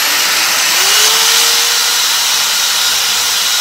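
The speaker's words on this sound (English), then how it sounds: "we're gonna drill some holes in the bottom of our trash can" A power drill bores holes through the bottom of a plastic trash can, with a loud continuous whine and grinding rasp at close range and no speech.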